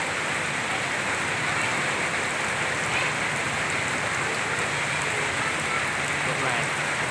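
Heavy rain falls in a steady, dense hiss that stays even and unbroken throughout, with no pauses or changes in intensity.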